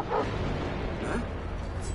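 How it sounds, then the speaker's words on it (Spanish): A dog in the stealth video game Thief gives a few short yips and whimpering barks, moderately close, over a steady low in-game ambient rumble. "No me puedo creer que haya un perro aquí"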